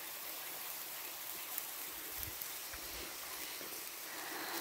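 Steady rain falls outdoors during a rainy-day barbecue of shashlik, a soft continuous hiss that stays even throughout with no voices.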